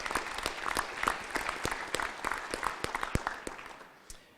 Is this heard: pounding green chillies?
no